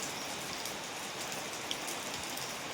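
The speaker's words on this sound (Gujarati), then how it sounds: "તો સરસ મજાનો વરસાદ છે દેખો" Steady rain patters on a hard surface, a continuous hiss of drops with no voices, even and close throughout.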